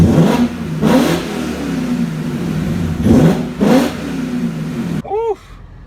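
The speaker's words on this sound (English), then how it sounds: "let's hear what this S62 engine got to offer." A BMW E39 M5's S62 V8 revs hard in a few rising, loud blips, the exhaust roaring and falling back between pulses before cutting off to a settling idle.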